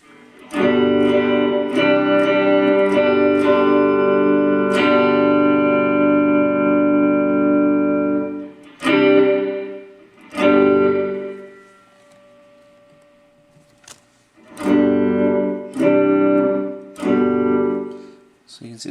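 Electric guitar chords ring out through a Mooer Shimverb shimmer reverb pedal, long sustained washes broken by pauses, then shorter strummed bursts that bloom and fade.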